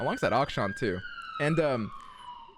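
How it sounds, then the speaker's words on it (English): A siren wails steadily in the background while a person talks over it, the tone holding on after the speech stops. "excuse the sirens"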